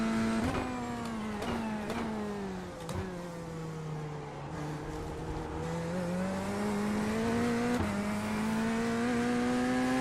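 Corvette GT3 race car engine in the iRacing sim, a loud steady drone that rises and falls through gear changes and short shifts, with brief dips between gears.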